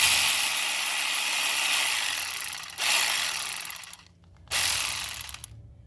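A ratchet tightens water pump bolts during a water pump and thermostat install, giving rapid metallic clicking in steady runs with one brief pause, close and fairly loud.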